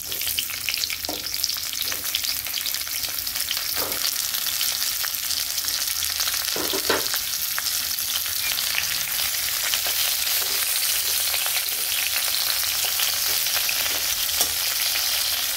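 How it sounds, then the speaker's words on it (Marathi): Bitter gourd (karela) pieces, salted and squeezed with lemon, stir-fry in hot oil in a kadhai with a loud, continuous sizzle, punctuated every second or two by the scrape of a spatula. "आता हे कारले घेत आपण बांधून ठेवले होते का मीठ लावून आणि लिंबू पिळून, ते याच्यामध्ये आपल्याला परतून घ्यायचे"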